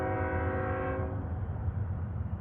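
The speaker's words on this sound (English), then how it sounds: "I think that train's messing with me." A passing train sounds a long horn blast over a loud rumble of rolling wagons. The horn cuts off after about a second while the heavy, close rail noise carries on.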